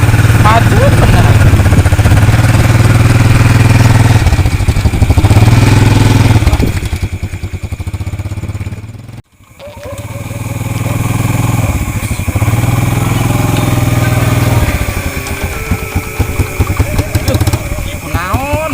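Motorcycle engine running close by, a loud steady droning hum that dips briefly midway then resumes, with faint voices in the background.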